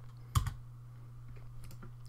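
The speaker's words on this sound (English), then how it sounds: "then hit F on the keyboard." A single sharp keypress on a computer keyboard, one clear click followed by a faint second tap, set against a quiet room with a low steady hum.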